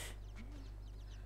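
Chicks cheep in quick, faint bursts over a steady low hum, with a soft electronic background, in the video game Inside.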